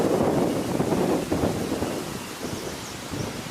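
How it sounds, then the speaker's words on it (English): Strong gusty wind roars and buffets the microphone in heavy low rumbling waves, loud throughout, with no voices. "it's windy and it makes it that much more difficult to hear."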